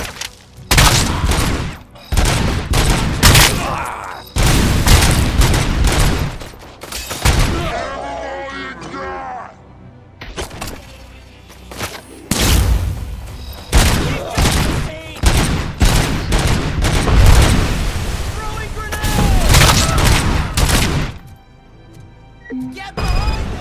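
Heavy gunfire in the RoboCop: Rogue City video game, loud repeated bursts and volleys with booming impacts, interspersed with brief pauses and shouted voices.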